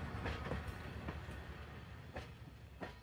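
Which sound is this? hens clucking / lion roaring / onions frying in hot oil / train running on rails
train running on rails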